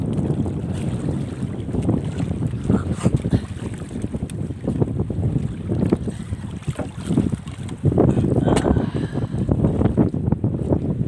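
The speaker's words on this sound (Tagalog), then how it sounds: "Uwi na kami, malakas na yung hangin." Strong wind buffets the microphone on open water, a loud rough rumble with gusts, and waves slap against a boat, no voices.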